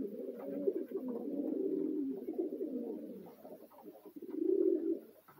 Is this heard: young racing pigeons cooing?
yes